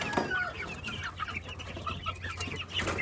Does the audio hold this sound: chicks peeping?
yes